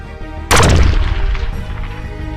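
A single loud, sharp burst at once that tails off into scattered, fading follow-up shots, from Nerf guns firing during a Nerf war against zombies.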